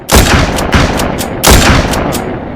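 Loud gunfire from the zombie shooter game Walking Zombie comes in about four quick bursts of close, sharp shots, each with a short decaying tail and no voices.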